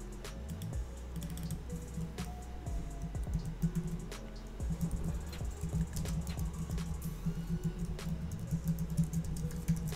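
Computer keyboard keys clatter in a steady run of quick taps, close and moderately loud over a busy background hum.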